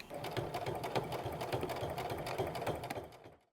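A sewing machine stitches a foam basket bottom to its top, a steady rapid mechanical whirring and ticking that runs close and alone for about three seconds before stopping.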